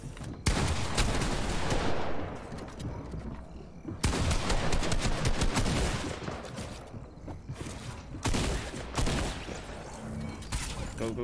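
Loud, dense bursts of gunfire from the video game Fortnite, rapid shots fired in repeated volleys with brief pauses between them, close and dominant throughout.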